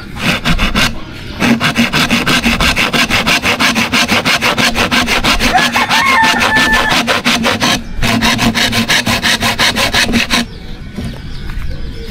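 A hand saw rasps through wood in fast, steady back-and-forth strokes, loud and close, pausing briefly before resuming, while repairing a broken chicken coop.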